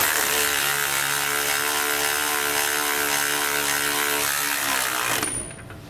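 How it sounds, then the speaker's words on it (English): A 3/4 inch socket and ratchet wrench tighten a steering stabilizer bolt on a 2017 Ford F-53 chassis. Close, rapid ratchet clicking runs continuously for about five seconds, then stops abruptly. "We're going to use a 3/4 inch socket and wrench to do so."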